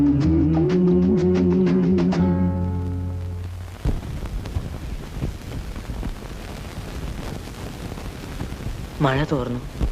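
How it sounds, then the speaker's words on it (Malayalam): Rain falls steadily in a scene from an old Malayalam film, a broad, even patter that takes over after music fades out. A voice briefly sounds near the end. "മഴ തോർന്നു പോണ്ടേ"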